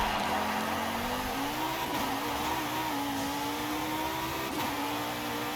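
A tuned car in the racing game Forza Horizon 5 accelerates with a steady engine drone whose pitch climbs gradually, briefly dips at gear changes, then rises again, holding an even, moderate loudness throughout with no voices.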